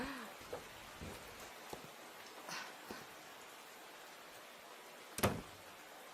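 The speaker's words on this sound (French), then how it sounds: "il pleut moins" Light rain falls steadily on surfaces as a soft, faint hiss, broken by a few scattered sharp taps and knocks, with no talking.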